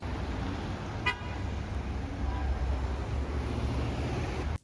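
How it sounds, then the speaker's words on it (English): City traffic drones as a steady broad road noise, with one short car horn toot near the start and fainter honks and engine hum further off. "Traffic like this often feels inevitable in the city"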